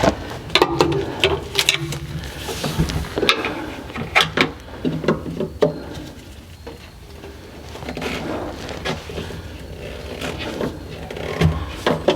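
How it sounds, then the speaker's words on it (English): A filter wrench working loose a tight oil filter on a Ford F150 with the 5.0L Coyote engine, giving close metallic clicks, scrapes and clunks in irregular bursts with short lulls between efforts. "If you can't get it off by hand, you got to use a filter wrench"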